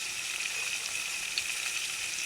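Cumin seeds sizzle in hot oil for a pachadi, a steady close crackle and hiss that stays at an even level throughout with no voices.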